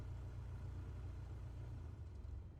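Aircraft engine in Microsoft Flight Simulator 2024 being run up World War II style, a steady loud low droning rumble that holds throughout with no talk.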